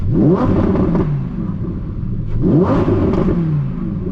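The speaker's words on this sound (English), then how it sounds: "The exhaust sound is the best. I love it so much, and you can rev it up" A 2024 Lamborghini Huracán Sterrato V10 engine roars twice in quick succession, rising and falling in pitch, loud and close with a throaty exhaust growl.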